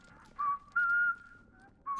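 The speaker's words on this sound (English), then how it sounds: "They're whistling so loud." Several characters in the video game Atomfall whistle loud, sustained tones in a few separate bursts, each holding a steady pitch before breaking off, alone with no talk over them.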